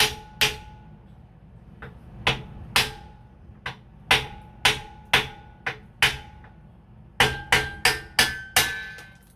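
Sharp metallic hammer strikes ring out one after another at an uneven pace while splitting an old log, close by, with a quicker burst of blows near the end.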